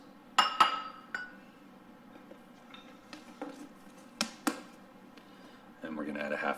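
A measuring cup clinks and taps while freeze-dried egg mix is scooped into a half-cup measure, with a few sharp light knocks spread through the clip, then a brief rustle, close and fairly quiet.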